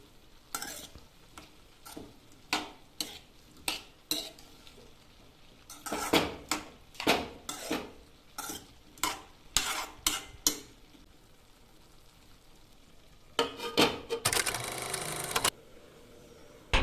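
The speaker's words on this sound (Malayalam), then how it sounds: "നമുക്ക് വീണ്ടും ഒന്ന് ഇളക്കി കൊടുത്തിട്ട് അടച്ച് വെച്ച് വേവിക്കാം" Ivy gourd stir-fry is stirred in a pan with a metal spoon, making repeated close clanks and scrapes in quick bursts, then a longer rattling scrape near the end, over a faint sizzle and without any talk.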